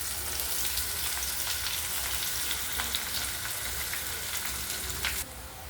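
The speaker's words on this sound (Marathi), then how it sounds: "त्यानंतर आपण फोडणीमध्ये कांदा घालूयात आणि कांदा चांगला मऊ होईपर्यंत शिजवून घेऊयात।" Onion frying in oil with bay leaf, a steady close crackling sizzle that continues evenly, then drops a little in loudness near the end.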